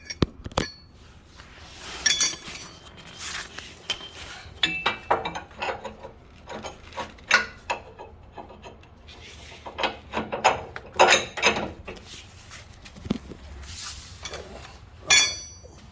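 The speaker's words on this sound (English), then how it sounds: "just slid the extended shackle over and slid the bolt through" Metal shackle and bolt being slid into place on the rear suspension of a Hummer H3, giving a series of close, irregular scraping clicks and clunks with brief rubbing between them.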